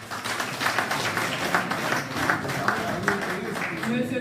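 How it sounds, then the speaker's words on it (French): Audience applause at a certificate presentation ceremony for the MLC Holland federation, a steady wash of many hands clapping throughout, fairly close and continuous with faint voices mixed in. "M. Guy Mavata, sous vos applaudissements."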